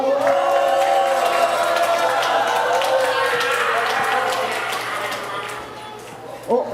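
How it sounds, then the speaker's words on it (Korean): A crowd at a gathering greets a special guest performance with loud, continuous applause and scattered cheers, and voices call out within the noise, which eases slightly toward the end. "힘차게 박수 부탁드리겠습니다"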